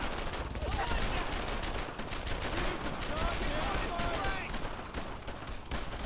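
Sustained gunfire from a squad laying down suppressing fire in the WWII shooter Brothers in Arms: Earned in Blood, a dense, continuous clatter of rifle and machine-gun shots with voices faintly mixed under the battle noise.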